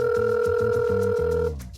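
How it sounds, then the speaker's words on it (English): A cell phone ringback tone repeats in a steady pulsing pattern for a second and a half, then cuts off abruptly, heard alone without talk. "This is what you hear if you call his cell phone"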